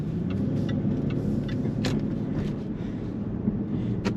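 A Jaguar XK 4.2 (X150) pulls out of a supermarket car park, its engine a low steady rumble heard from inside the cabin with faint road and tyre noise and a few soft clicks.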